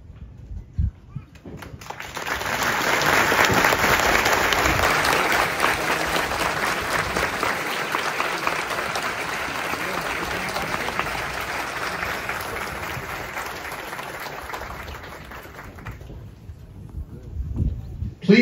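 A crowd at a US Army Basic Combat Training graduation gives a long round of applause for a retired Army lieutenant colonel and families, outdoors with some wind, swelling quickly, holding steady, then fading out.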